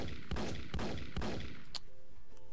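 Rifle gunfire in a Roblox two-player heist tycoon game: three or four loud, evenly spaced shots ring out in a quick rhythm, then a sharp ricochet-like crack, with no talking.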